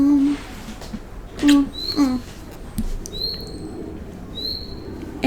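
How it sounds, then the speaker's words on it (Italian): Small bird chirping indoors, several short high chirps scattered through the clip, fairly close, with faint background noise between calls. "È l'uccellino."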